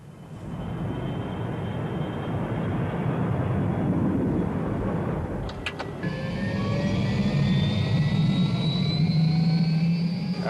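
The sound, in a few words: Sky9 news helicopter engine departing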